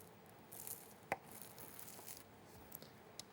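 A knife slicing through baked puff pastry for a coffee mille-feuille, a few faint crisp crunches and flaky crackles, one sharper cut standing out, quiet overall.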